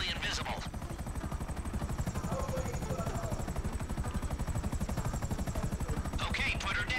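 Helicopter rotors in Grand Theft Auto V give a steady, loud, rapid chopping pulse that runs through the whole stretch, with brief gunfire-like bursts near the start and end.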